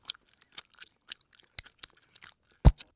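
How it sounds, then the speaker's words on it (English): A sound effect standing in for a moth chewing on an overcoat: sparse, dry crunchy chewing clicks spaced irregularly, ending in one louder crunch, close and alone with no talk. "Even the sound of a moth chewing on an overcoat."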